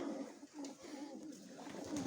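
A pigeon at a breeder's loft in Chornobaivka, Mykolaiv, gives a few soft, repeated low coos close by, faint and rhythmic, with light background noise and no clear talk.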